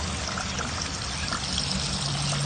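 Water spreads from drilled spreader pipes across the gravel bed of an aquaponics system, a steady close hiss of pouring and trickling water heard on its own.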